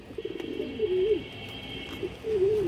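A red khaki pigeon coos in short rising-and-falling phrases, two clear calls close by over a low steady background hum.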